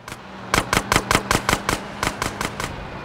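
A burst of about a dozen sharp, evenly spaced gunshots rings out at close range in GTA San Andreas, a rapid rhythmic volley lasting a couple of seconds.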